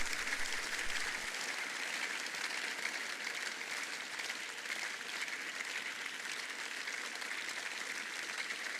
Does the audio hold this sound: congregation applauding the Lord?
yes